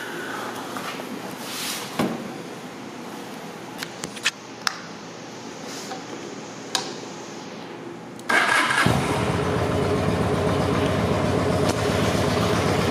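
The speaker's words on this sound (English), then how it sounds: "Let's fire it up." A 2007 Honda Shadow 750 Aero motorcycle with about 10,000 miles cranks and fires up after several seconds of near-quiet with faint clicks, then settles into a loud, steady, close idle with no talking.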